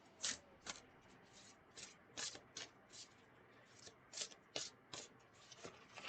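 A deck of oracle cards is shuffled by hand close by, making quiet rhythmic riffling flutters in quick bursts with short pauses between them, with no one speaking.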